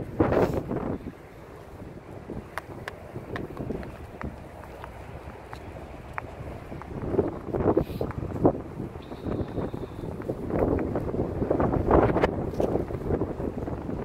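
Wind gusts buffet the microphone outdoors on a cloudy, mild day, a steady low rumbling roar that swells and eases over about fourteen seconds with no talking.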